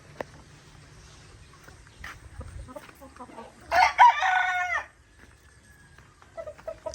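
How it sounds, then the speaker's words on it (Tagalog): White Kelso pullets on a farm cluck softly amid faint background noise, then one bird crows loudly and clearly for about a second before quieter clucks return. "Ito yung pullets namin, white Kelso pullets."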